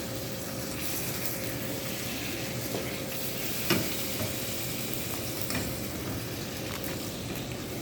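Butter sizzles steadily in a pan while pineapple flambé is cooked, a continuous hissing fry with a few faint clinks, no talking.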